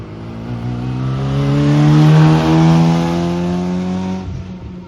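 MG Midget sprint race car lapping Curborough circuit, its engine a loud, close, steady drone that rises in pitch then eases slightly as it powers along, filling the whole stretch without any talking.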